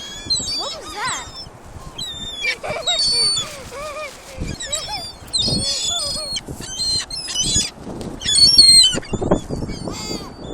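Seagulls being fed on Cherry Grove Beach squawk and cry repeatedly at close range, with overlapping calls throughout, while people talk excitedly nearby.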